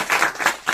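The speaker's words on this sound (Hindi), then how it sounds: "तालियां।" A church congregation claps during a worship service, a short patter of hand claps coming in two or three quick bursts, fairly close and loud.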